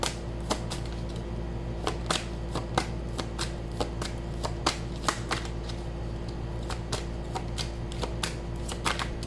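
Tarot cards are shuffled and drawn during a reading, a brisk run of sharp, close card riffles and slaps repeating roughly every half second for several seconds. No voices are heard.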